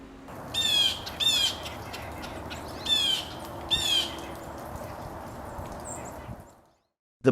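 A blue jay gives four harsh, evenly spaced calls over a steady broadband outdoor hiss, moderately close and fading out at the end.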